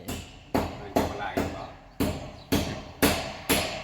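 Sharp, regular impacts roughly every half second, like hammering at a nearby construction site, each knock ringing briefly before the next.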